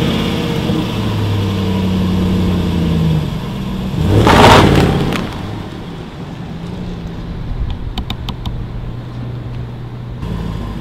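A car revs its engine with iPhone 5S and 5C handsets resting on the trunk, a steady engine hum swelling into one short loud burst of acceleration, then settling back, with faint light clicks near the end.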